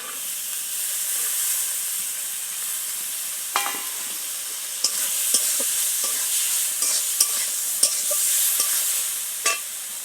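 Green peas stirred into melted tomatoes for a vegetable dal, frying with a steady hiss and sizzle while a spoon scrapes and clicks against the pan at irregular moments, close and alone.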